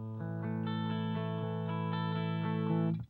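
An electric guitar played lightly through an MK.4.23 clean boost pedal set to 24 dB into an amp, ringing clean notes struck in an even sequence that sustain smoothly before cutting off abruptly.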